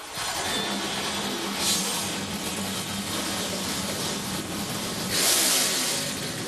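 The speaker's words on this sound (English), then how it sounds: "Engines are fired up." Race car engines fire up and rev together before an ARCA 200 race at Michigan, a dense, loud, continuous mechanical roar with surges of revving, no voices heard.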